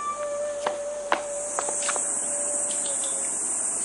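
Insects chirp and buzz in a dense, continuous chorus on a Japanese summer day, with a sustained high hiss and scattered sharper calls close by and no talking.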